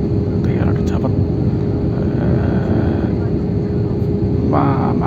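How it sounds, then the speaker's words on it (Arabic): Airliner cabin during the landing approach into Valencia airport, a loud steady engine and air roar filling the whole stretch, with faint brief voices in the background. "احنا كنهبطو دابا حاليا، الطيارة كتهبط"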